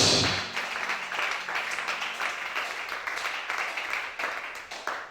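Church congregation applauding and cheering for God, a dense loud wave of clapping that starts strong and continues steadily, with faint voices mixed in.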